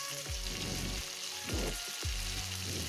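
Tomato chutney sautéing in a pan gives a close, continuous sizzle, broken by repeated scraping strokes as it is stirred, along with a few short tonal sweeps.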